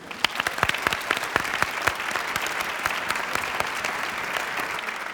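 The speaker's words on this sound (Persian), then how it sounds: "تشویقش کنین" An audience claps for a young girl on a children's show, a steady burst of dense applause with sharp individual claps, sustained at moderate loudness for several seconds and then thinning slightly.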